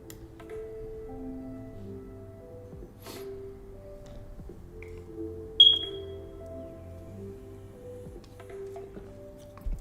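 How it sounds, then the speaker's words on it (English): A smoke alarm with a low battery gives one short, sharp high chirp partway through, standing out over a steady low hum and droning tones; nobody speaks. "Sorry about the fire alarm, guys."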